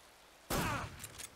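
A single loud gunshot in the Metal Gear Solid 3 video game with a short decaying tail, followed by two faint quick clicks.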